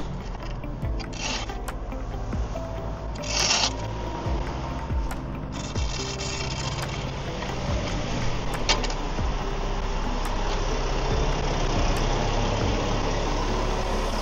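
A tractor engine running steadily at a moderate distance on a cattle farm while straw is spread in a calf nursery, a continuous low rumble with occasional clanks and bursts of higher noise.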